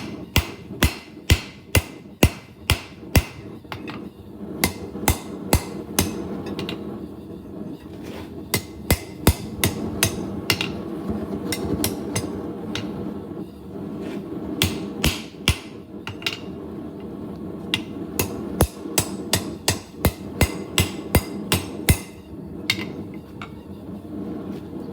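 Rebar is hammer-forged into flat bit tongs on an anvil: loud, sharp ringing blows in quick bursts, with short pauses between the volleys, close and alone.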